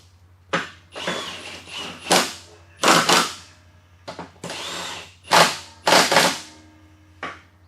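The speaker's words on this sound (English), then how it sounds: "I'll go ahead and throw the blades back on and torque them." A power tool torques the blades back onto a flipped-over BX tractor mower deck. It fires in about ten short, loud bursts with brief gaps between them, close by and with no talk.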